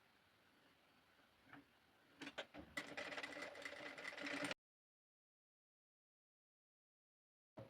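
A sewing machine stitches around a fabric flamingo toy, starting with a few ticks and then a steady, close mechanical whirr that stops abruptly and leaves silence.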